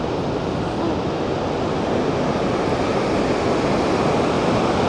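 Spray and wind roar from Vøringsfossen waterfall in Norway, a loud, dense, continuous rush filling the whole moment with no break and no voices.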